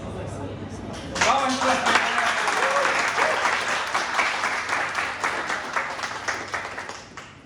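An audience at a hackathon pitch event bursts into applause after a speaking voice, the clapping steady and full before tapering off at the end.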